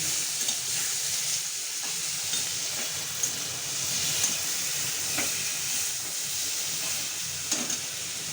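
Spices and chopped papaya frying in a pan for a vegetarian mutton-style curry, a continuous hissing sizzle with a few faint utensil taps, no talking.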